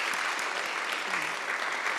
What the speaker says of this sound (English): So let's give Julie one more round of applause